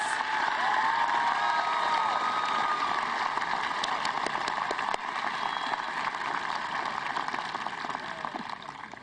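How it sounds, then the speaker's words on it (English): High school graduation audience applauding and cheering for honor graduates, a steady, loud wash of clapping with shouts and whoops from a large crowd that continues throughout. "May we have another round of applause for our honor graduates."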